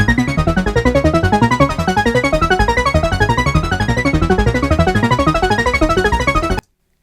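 Stacked breakdown synths in Logic speeding up in tempo, a loud dense wash of rapid repeating notes that grows faster and busier before cutting off abruptly at the end.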